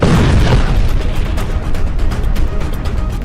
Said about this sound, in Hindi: इजरायल का बम गाजा में फटता है